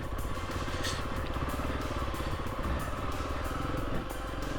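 A Kawasaki KLX300 dirt bike rides an off-road loop in the Eddys, its steady engine drone rumbling close and continuous, with rattling clatter throughout and a brief bump near the end.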